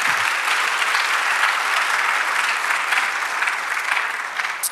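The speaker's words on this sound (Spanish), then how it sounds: "Aleluya, dale un aplauso." A church congregation applauds during a Spanish-language sermon, producing dense, even clapping that holds steady and fades a little at the close.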